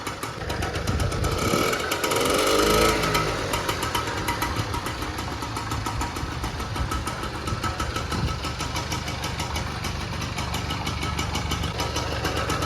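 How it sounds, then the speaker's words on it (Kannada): A Kinetic Luna moped fitted with a small engine runs steadily close by, a rapid buzzing, knocking putter with a brief rise early on. "ಈ ಗಾಡೀಲಿ ಒಂದು ಸ್ಮಾಲ್ ಇಂಜಿನ್ ಫಿಟ್ ಮಾಡ್ಬಿಟ್ಟವ್ರು"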